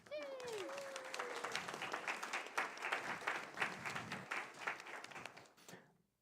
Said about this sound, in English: A big applause for our friend Dario